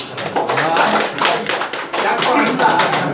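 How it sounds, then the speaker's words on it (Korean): Applause of thanks breaks out among members at a club gathering, a dense, steady patter of many hands clapping for about three seconds, with voices chattering underneath. "감사의 박수"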